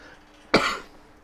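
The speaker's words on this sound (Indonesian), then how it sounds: "Maaf saudara, saya agak masih batuk." One sharp, close cough bursts out abruptly against a quiet room, then fades quickly.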